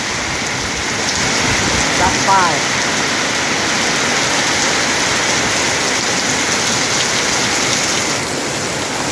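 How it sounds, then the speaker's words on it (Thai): Heavy rain pours down during a December storm over rice fields, a dense, continuous hiss close by and loud, with someone speaking briefly over it. "ฝนตกเดือน12"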